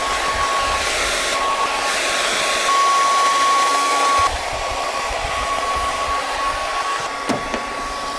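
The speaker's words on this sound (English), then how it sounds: "I convinced Marissa to get this super portable hairdryer." A low-power portable hairdryer runs steadily in an RV in freezing winter weather, a close, constant whooshing hum with a thin whine that shifts slightly in pitch partway through, with no talking.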